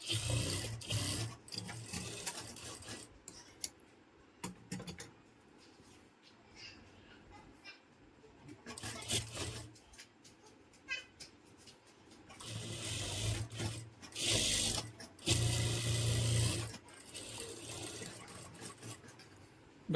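A sewing machine stitches a patiala pajama in repeated bursts of rapid running, stopping and starting several times, with quiet pauses between runs.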